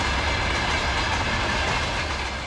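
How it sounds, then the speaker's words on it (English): A Soviet VL-80S electric locomotive hauling a long, massive freight train passes close by at a station, a steady loud roar of rolling wagons with faint clickety-clack, continuous throughout with no talk. "This passing electric locomotive is a classic Soviet design, namely a VL-80S, with the VL standing for Vladimir Lenin"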